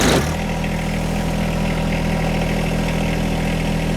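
A John Deere 1025R compact tractor engine runs at a steady idle close by, a constant low droning rumble that holds evenly after a brief louder onset.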